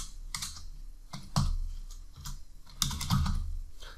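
Close, quiet typing on a computer keyboard while writing React code, with short clusters of key clicks separated by brief pauses.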